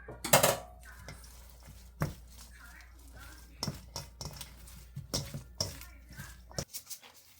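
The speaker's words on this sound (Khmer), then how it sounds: "ច្បល់វាឲ្យសព្វចឹងមកច្បល់វាថ្នមឲ្យសព្វ" Chive kimchi being tossed and mixed in a bowl with seasoning, sugar and sesame; irregular soft clinks, scrapes and wet stirring sounds come in scattered bursts at close range, with one sharper clatter near the end.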